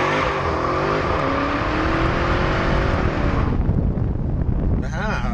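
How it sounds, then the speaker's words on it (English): A Dodge Charger Hellcat doing a burnout smoke show, its engine revving loudly and rising in pitch, then roaring and tapering off before a final sharp rev burst near the end. "I just recycled a clip of a little tiny little smoke show that I did from the 5 things that I love about a Charger Hellcat"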